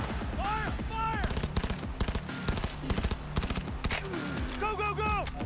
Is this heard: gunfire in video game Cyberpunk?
yes